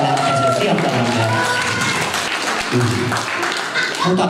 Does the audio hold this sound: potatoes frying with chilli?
no